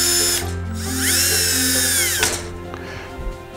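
A power drill drives self-tapping screws to fix a nest box into an aluminum chicken coop, its motor whining loudly up close and rising in pitch, then stopping, with light clatter afterward and no speech.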